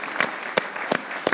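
An audience applauds a cricketer on a talk show, heard as a few quick, separate claps spaced through a short stretch rather than a full ovation.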